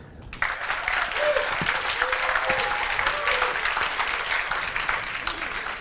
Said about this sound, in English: I want you to give them a round of applause as I call them up